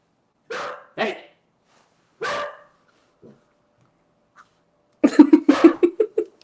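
A dog barks in a few short bursts, then lets out a rapid volley of barks, fairly close, with quiet gaps between.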